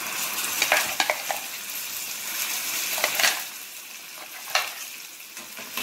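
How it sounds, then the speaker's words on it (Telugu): Ground tomato chutney goes into a hot tempering and is fried and stirred, giving a continuous sizzle with recurring bursts of spoon scraping against the pan. "ఇప్పుడు మనం మిక్సీ వేసుకున్న పచ్చడి వేసుకోవాలి"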